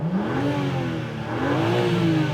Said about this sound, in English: It's got a very deep rumble to it, as you can hear